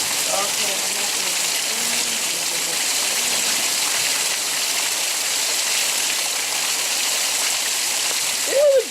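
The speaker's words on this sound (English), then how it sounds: "Guys, I think the gutter's overflowing." Rainwater overflowing from a gutter during a hailstorm, a steady loud splashing rush of falling water close by, with faint voices talking underneath.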